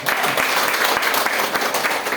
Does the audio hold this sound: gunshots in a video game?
no